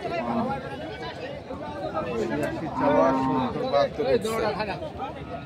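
Cows moo and low amid a bustling cattle market crowd in Thakurgaon, Bangladesh, with people chattering close by throughout and animal calls rising over the voices.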